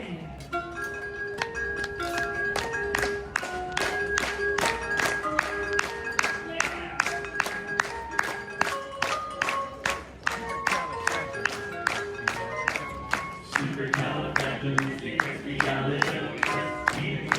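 A crowd at Disney World claps along in a steady, even beat to barbershop singers, crisp rhythmic claps over close-harmony vocals throughout.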